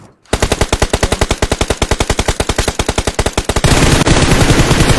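Rapid automatic gunfire in a video game, a fast unbroken burst of loud, evenly spaced shots that runs for several seconds before merging into a dense, continuous roar of fire.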